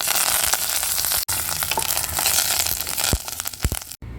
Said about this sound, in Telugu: సో ఇప్పుడైతే పోపు అయితే పెట్టేసుకుందాము. ఉద్దిపప్పు, ఆవాలు, జీలకర్ర, ఎండుమిర్చి, తర్వాత కరివేపాకు.